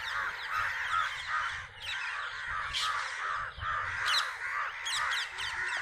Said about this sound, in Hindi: ये देखो कितने सारे पंछी उड़ रहे हैं।